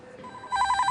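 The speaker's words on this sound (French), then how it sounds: "Ton téléphone sonne." An office telephone rings at a police crime squad desk, a faint tone at first, then a loud repeating electronic ring pulsing steadily through the second half.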